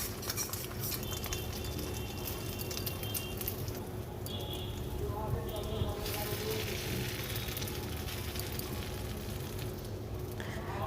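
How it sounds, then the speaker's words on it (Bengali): An egg fries in a pan in a village kitchen, giving a continuous soft sizzle. Metal utensils clink and scrape against the pan on and off throughout, fairly close but at low volume. "এরপর আমি একটা ডিম ভাজা করে নেব"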